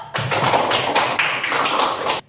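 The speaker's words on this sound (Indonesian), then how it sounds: "Untuk kelompok 3 kita kasih aplaus." Classroom applause breaks out suddenly and holds steady for about two seconds of dense, even hand clapping from a group before stopping abruptly.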